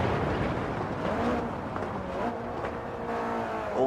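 A Mitsubishi Evo 9 FQ320 engine held at full throttle in Gran Turismo 7, a steady, loud, close-up roar that climbs in pitch at the end.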